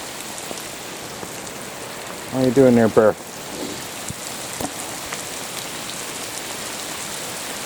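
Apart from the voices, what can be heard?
heavy torrential rain bouncing off the ground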